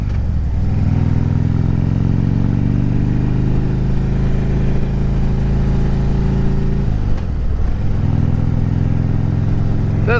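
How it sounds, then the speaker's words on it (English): A 2010 Harley-Davidson Street Glide Ultra engine running loud and close, a deep rumbling tone rising steadily as it pulls, a brief dip like a shift, then climbing again, with no talk. "This motorcycle runs great."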